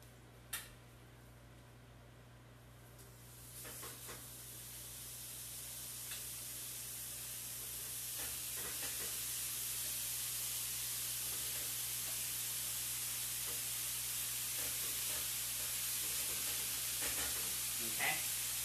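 Chicken lying pocket-open on a hot grill pan gives a steady, hissing sizzle that swells a little over time, with faint crackles and ticks near the pan.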